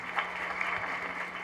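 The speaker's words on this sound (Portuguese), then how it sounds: "Uma salva de palmas, eu acho, para eles" Steady applause from a seminar audience for attendees from Acre at a national teachers' training event, a dense, even patter lasting the whole moment without voices.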